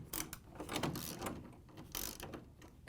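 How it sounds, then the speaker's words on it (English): Socket ratchet tightening screws on a Frigidaire refrigerator door hinge: quiet, close clicking bursts of the pawl in several short back-and-forth strokes, with light scraping between them. "we can use the socket to almost tighten it down"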